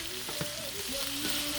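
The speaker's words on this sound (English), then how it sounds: "I got the butter going down real good back there" Butter melting in a hot pan gives a steady, close sizzle with a soft crackle running throughout, and nobody speaks.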